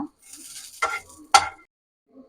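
Garlic and chili frying in a little oil, with a soft steady sizzle, occasional stirring scrapes and two sharper clinks of a utensil against the pan, close by.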